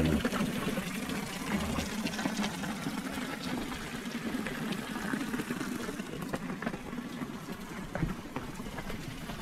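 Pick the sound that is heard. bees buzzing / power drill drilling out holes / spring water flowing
spring water flowing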